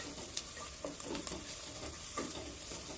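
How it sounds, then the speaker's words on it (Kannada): Onions with a pinch of salt frying in a pan for a ridge gourd stir-fry, a soft continuous sizzle broken by a few scraping stirs of a spatula. "ಈಗ ಈರುಳ್ಳಿ ಫ್ರೈ ಆಗೋಕ್ಕೆ ಸ್ವಲ್ಪ ಉಪ್ಪು ಹಾಕ್ಕೊತೀನಿ."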